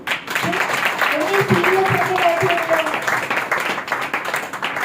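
A congregation claps during a Hindi Sunday sermon, the applause running beneath voices, with a tonal sustained sound rising through the middle of the clapping.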